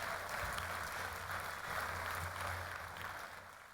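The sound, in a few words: audience applause at commencement ceremony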